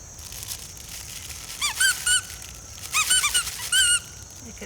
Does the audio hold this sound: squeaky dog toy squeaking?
yes